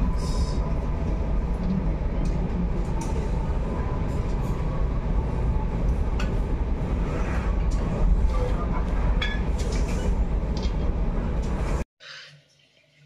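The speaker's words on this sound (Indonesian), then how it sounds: "kereta api Pangrango diberangkatkan dari stasiun Bogor menuju Sukabumi" The Pangrango economy train pulls out of Bogor station toward Sukabumi, a loud continuous rumble of wheels and carriages with scattered clanks, ending in a sudden cut to near quiet.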